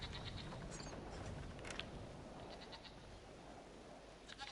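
Goats bleat in the video game Brothers: A Tale of Two Sons, giving faint repeated calls over a steady, noisy game ambience.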